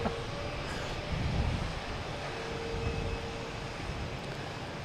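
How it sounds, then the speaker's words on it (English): A Boeing 787 jet airliner lands at Boston Logan Airport, heard as a steady, broad, distant roar of jet engines that swells slightly, with no talk over it. "Here's the 787 that just landed."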